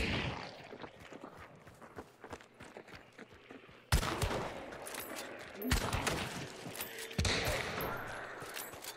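Gunfire in the video game Hunt: Showdown, a scatter of sharp shots and rapid bursts, with several loud close blasts in the second half over faint background movement.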